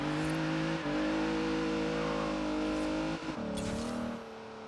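A drag-tuned Rolls-Royce engine revs hard and steadily with the clutch held in, giving a loud, sustained drone. Brief dips in the revs come around the one- and three-second marks, and it eases slightly at the end.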